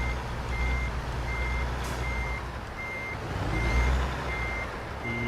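A truck in American Truck Simulator, hauling an oversized load, gives off evenly spaced electronic reversing beeps over a low, steady diesel rumble as it backs a trailer into place. No one speaks.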